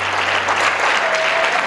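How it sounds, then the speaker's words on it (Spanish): A church congregation applauds loudly and steadily for Christ, a dense wash of clapping filling the whole moment with a faint sustained tone near the end. "Si es para Cristo, dale fuerte el aplauso."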